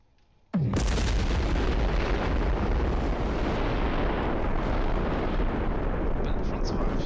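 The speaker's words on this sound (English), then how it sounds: "One hell of explosion." A huge explosion between two cruiser ships in the space game Space Engineers bursts in suddenly after a brief quiet moment, then rolls on as a loud, sustained, roaring rumble.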